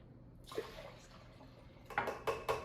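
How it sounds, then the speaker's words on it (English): Two cups of water are poured into a pot while making grits, a brief splash at first and then a louder run of gurgling pours near the end, close by with no talk. "I'm going to do 2 cups water."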